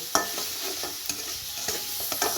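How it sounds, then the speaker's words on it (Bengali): Spice paste for a jackfruit curry stir-fried in a pan, a continuous close sizzle with repeated scraping taps of a spatula against the pan. "এভাবে আমি মশলাটা ভালোভাবে কষিয়ে নেব"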